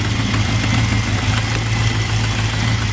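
A big block V8 in a Squarebody truck idles steadily and close up, a loud low rumble with a constant drone throughout and no one speaking.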